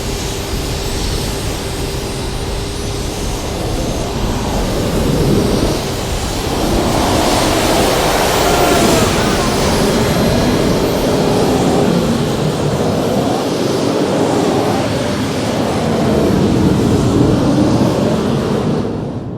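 Loud, sustained roar of jet engines blasting out an oil well fire in Kuwait, a dense broadband rush that swells and holds steady throughout with no talking.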